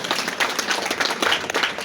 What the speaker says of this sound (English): Can we clap for Madam Winnie?